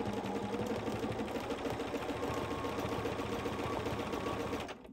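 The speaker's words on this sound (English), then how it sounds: "Scribbly stitching on the edges of the leaves." A sewing machine with a free motion foot stitches scribbly lines along the edges of fabric leaves, a quiet, fast and steady needle chatter that runs continuously before stopping at the end.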